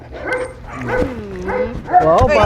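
A dog barking and yipping in short bursts close by, mixed with lively conversation from people nearby.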